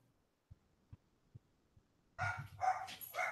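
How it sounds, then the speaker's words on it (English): Dogs break into loud, close barking after a few faint, evenly spaced thumps in an otherwise quiet room. "Oh, hear my dogs?"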